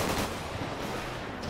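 Gunfire in the video game GTA 5 during a roleplay bodyguard session, a dense, loud burst of rapid shots that fills the whole short moment with no pauses.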